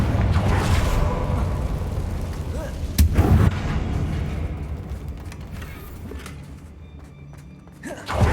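A Confringo fire spell blast in the video game Hogwarts Legacy: a heavy booming impact with a sharp crack near three seconds, then rumbling debris and creaks fading out, with another thump at the end.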